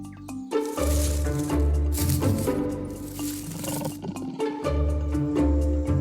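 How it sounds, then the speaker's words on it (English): Jaguars in the rainforest give deep, rasping roars. The calls are loud and close and run in repeated grunting bursts with short pauses between them, heard alone without speech. "Their deep roars can be heard throughout the rainforest"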